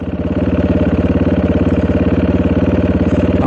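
A car engine runs steadily up close with an even, throbbing low pulse as the clutch is slowly released into first gear, loud and alone without any talk.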